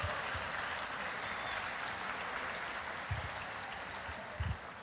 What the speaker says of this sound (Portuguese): Aí sim, salva de palmas para os homens